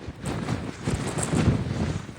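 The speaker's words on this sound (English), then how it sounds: "It's so windy." Strong wind blowing across an open hillside, a steady rough buffeting roar against the microphone with gusts rising and falling.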